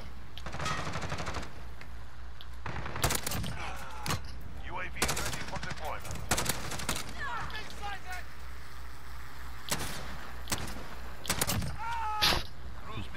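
Gunfire in Call of Duty: Modern Warfare, with sharp shots and short bursts spread irregularly over a steady low engine-like hum, bullets whizzing past, and someone talking between the shots.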